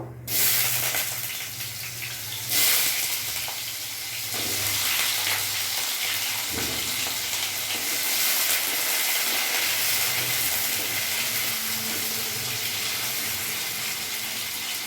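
Potatoes frying in hot tempering oil for a vegetarian pumpkin curry, giving a steady, loud sizzling hiss that runs throughout with a few brief clatters near the start.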